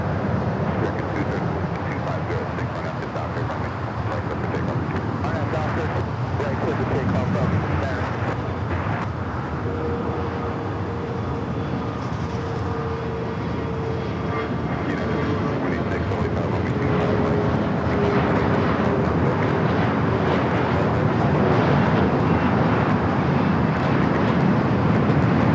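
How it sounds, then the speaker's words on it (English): Air Tahiti Nui Boeing 787 Dreamliner arriving from Papeete at LAX, a sustained, steady jet roar with a faint rising whine through the middle, under light background voices. "We also had the second Air Tahiti Nui Dreamliner coming in from Papeete."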